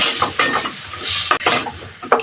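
Pieces of meat drop into a pan for Filipino adobo sa gata, giving several clattering scrapes and stirring knocks against metal with a soft sizzle underneath, close and fairly loud, no talking.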